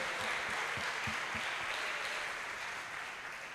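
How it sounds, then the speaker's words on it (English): Applause from an audience at a police academy school seminar, a steady rush of many hands clapping, fairly distant and gradually tapering, with faint low voices in the first second. "Can you please all give a big round of applause for Mr."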